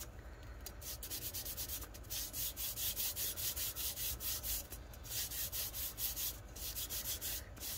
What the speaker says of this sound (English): I am just going to start burnishing it down and see what we end up with